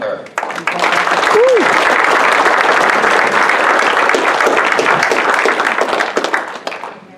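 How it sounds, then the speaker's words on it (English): Racing banquet crowd at Freedom Motorsports Park breaks into loud, sustained applause for a driver, dense clapping with a brief whistle early on, holding strong for several seconds before tapering. "Big round of applause for Phil Vigneri III"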